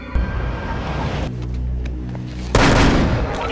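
Gunshots in a TV police drama: a sharp shot near the start, a stretch of low rumbling tension, then a loud burst of gunfire that fills the end of the scene, with no voices.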